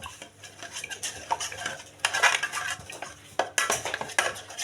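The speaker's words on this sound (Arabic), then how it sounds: "غادي تخلطي هاد النشا مع هذيك مع داك الماء ديال لافوكا" Starch is stirred into avocado water in a bowl with a utensil, producing repeated close clinks and scraping knocks in an uneven rhythm, louder in the second half.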